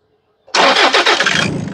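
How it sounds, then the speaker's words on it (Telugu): A 2015 Toyota Innova 2.5 GX diesel catches on a single crank after a brief, quiet cranking moment, then settles straight into a loud, steady idle. "సింగిల్ సెల్ఫ్ లో కార్ స్టార్ట్ అవుతుంది, ఎటువంటి స్టార్టింగ్ ట్రబుల్ అయితే లేదు"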